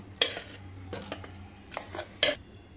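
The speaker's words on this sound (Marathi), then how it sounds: "आता आपण या पातेल्यामध्ये हे मक्याचं मिश्रण काढून घेऊया" A utensil scrapes and taps against a metal pot several times while scooping corn batter for vadas, short scooping clinks spaced irregularly across a few seconds.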